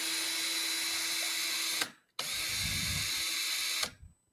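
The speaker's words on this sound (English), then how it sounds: "do you know where reverse is on that drill?" A power drill runs in a wall repair workshop, two sustained high-pitched whirring bursts of about two seconds each, separated by a brief pause, close and loud with no talking.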